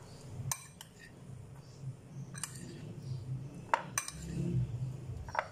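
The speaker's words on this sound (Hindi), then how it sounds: "अब आपने इसको मिक्स कर लेना है।" Mango salad ingredients stirred in a bowl, with scattered clinks of a utensil against the dish and soft rustling between them, fairly quiet.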